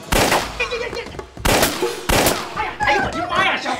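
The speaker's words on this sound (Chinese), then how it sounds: "扳机， 哎哎哎哎，别勾别勾，一勾就响，里边有子弹。" Several loud, sharp gunshots crack at close range, spaced about a second apart, with excited voices shouting between and after the blasts.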